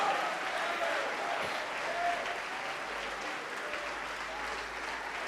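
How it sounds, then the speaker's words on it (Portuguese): A church congregation applauding, dense sustained clapping from a large crowd filling the room at an even level, with a faint voice underneath. "vamos aplaudir mais ao nome do Senhor"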